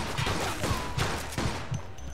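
Shotgun blasts in the video game Mafia 2 go off close and loud, several rapid booming shots fired in quick succession over a noisy background.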